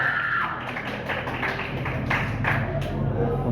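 Audience applause at a Haitian pageant semi-final, steady clapping with scattered taps and thumps heard over a busy, reverberant hall with a low background hum.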